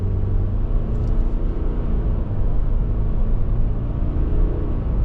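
A 2024 Subaru Impreza Base with its flat-4 engine pulls away down the road, a steady low rumble of engine and road noise holding even throughout.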